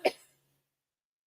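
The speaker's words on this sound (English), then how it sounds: "I'm starting to cough more" One short, quiet cough from a person with lupus, indoors, fading quickly into near silence.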